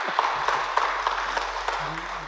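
A church congregation at a Sunday worship service breaks into brief, moderately loud applause, the claps blending into a dense patter that tapers off as a voice resumes at the end.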